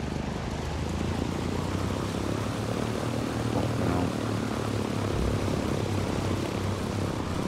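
Propeller airplane engine in the Ghost Recon Wildlands video game, a loud, steady droning roar with a low throbbing hum that holds continuously throughout without pause.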